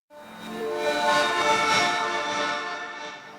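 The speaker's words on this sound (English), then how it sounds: "I'm going to jump over here to this lead synth that sounds like this." A polysynth lead patch plays a bright, sustained chord-like tone rich in harmonics, swelling in quickly and holding steady for a few seconds before easing slightly, with no voices over it.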